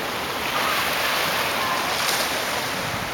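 Pacific Ocean water washing and moving against the rocks at La Jolla Cove in San Diego, a steady broadband surf wash with wind noise, continuous and fairly near, no talking.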